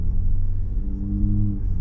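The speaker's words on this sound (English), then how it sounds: "when we first start, we just have a nice little whir in the background. Just, you can tell that the engine's running" Jeep Wrangler 3.6L with an MRT axle-back dual-tip exhaust at idle, a steady low rumbling burble, close and even with no talk.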